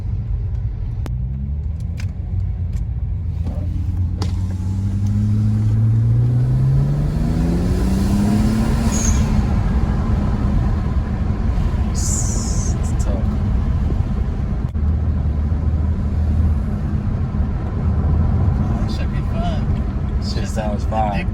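A car engine with an HKS blow-off valve rumbles low and steady, rising as it revs, then eases off with a brief airy burst partway through before settling back to a loud idle-like drone.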